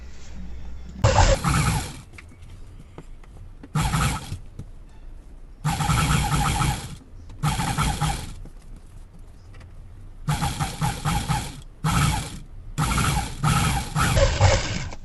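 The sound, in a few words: sewing machine stitching a blouse seam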